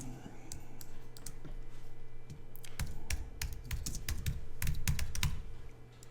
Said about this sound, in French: Et je vais taper le nom du magazine.